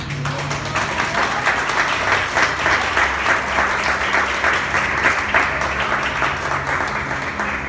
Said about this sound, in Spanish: ¿Se va a aplaudir? Apláudalo.